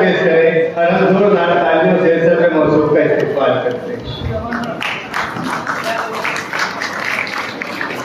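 At a school retirement ceremony, someone speaks over a microphone, then a hall audience breaks into sustained, moderately loud clapping that continues to the end.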